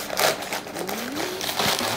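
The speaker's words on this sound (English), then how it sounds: "I use paper this time instead of bubble wrap" Paper packing material crinkles and rustles in bursts while a Keychron K8 keyboard is unboxed, close and moderately loud, with an intermittent low rubbing or sliding tone underneath.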